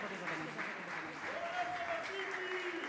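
An audience claps steadily for church elders and their team at a Christian music family's World Music Day celebration in Hyderabad. The moderate, sustained applause runs throughout, with a voice heard faintly beneath it.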